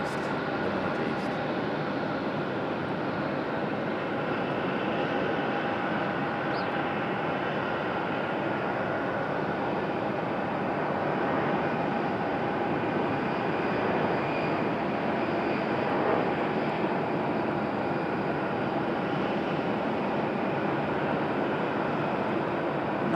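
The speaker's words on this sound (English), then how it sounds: "Nice smooth touchdown again after that go around a moment ago." An airliner touches down at Raleigh-Durham International after a go-around, heard from outside as a steady, broad jet roar that holds for the whole stretch, moderately distant with wind noise and no clear individual events.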